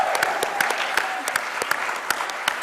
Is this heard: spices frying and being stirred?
no